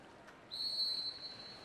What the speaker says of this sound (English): And there's the whistle, and here we go.